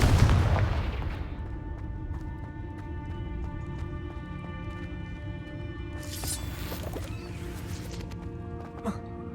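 A Confringo spell explosion in the video game Hogwarts Legacy bursts with a loud boom at the start, then its rumble decays into a long ringing tail beneath game music.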